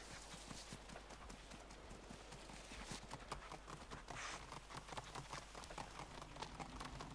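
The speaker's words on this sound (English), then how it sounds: "Clip clop." Horse hooves clip-clopping in a video game, a quiet, steady rhythmic patter of hoofbeats with a soft voice faintly underneath.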